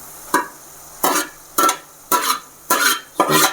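Beetroot being stirred into hot frying oil for beetroot thokku, six regular scraping strokes of a spoon against the pan with a soft sizzle between them, close and clear.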